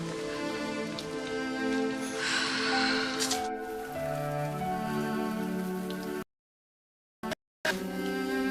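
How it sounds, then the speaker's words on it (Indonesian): Light drizzle falls steadily outdoors as a soft, continuous patter behind a layer of music, dropping out briefly near the end before returning. "Dewa, gerimis."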